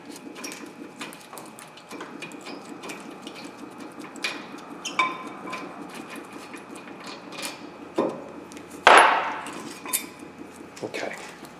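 Brake caliper bolts being removed from a 2002-2005 Ford Explorer, a steady ratcheting clicking of a hand tool with scattered metallic clanks and one sharp loud clatter near the end.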